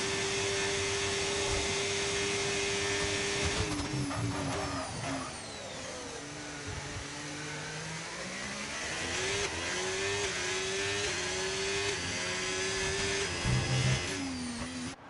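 Ferrari race car in a racing video game, its high-pitched engine screaming steadily through a lap, rising and falling in pitch through gear changes and corners, loud and continuous with no talk.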